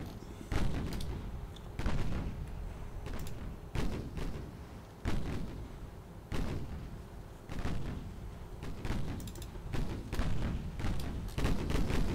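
Heavy naval guns boom from a battleship in a video game, around eight deep, thudding salvos spaced one to two seconds apart, loud and close with rumbling tails.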